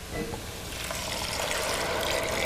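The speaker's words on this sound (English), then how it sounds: "Pour the water in here." Six cups of water pour into a pot of red lentils for an Ethiopian stew, a close, steady splashing gush that keeps running for a couple of seconds without any talk.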